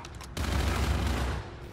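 Burst of gunfire from a hardcore team deathmatch on the Breakout map in Call of Duty: Infinite Warfare, a sustained dense volley starting abruptly and rumbling for over a second, loud and close.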